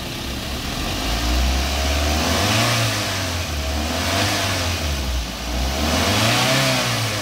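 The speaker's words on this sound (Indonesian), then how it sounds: "Suara mesinnya halus." A 2009 Daihatsu Gran Max 1.3 blind van engine runs smoothly and steadily up close, with a low, even drone that swells gently a few times, as if from light throttle, and no talk over it.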